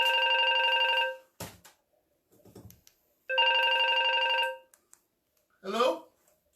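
A telephone rings in two long bursts of electronic trilling tones, separated by a short pause with a brief clunk and faint rustling. A short burst of speech follows at the end.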